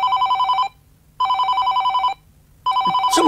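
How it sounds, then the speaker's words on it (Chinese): A telephone bell rings late at night in three loud, clear bursts with short silent gaps between them, and a brief rustle comes in at the end. "这么晚了，还有谁会打电话？"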